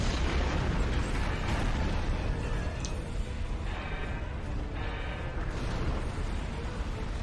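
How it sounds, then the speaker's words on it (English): Charges detonating inside a chamber in Star Trek Online, a loud, continuous rumbling barrage of blasts with crackling bursts layered on top, sustained without pause throughout. "Detonating charges!"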